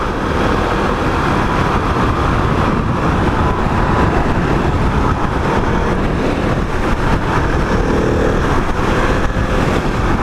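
A 2021 KTM 690 Enduro's single-cylinder engine drones steadily during a test ride, a loud continuous rumble with wind noise and no pauses.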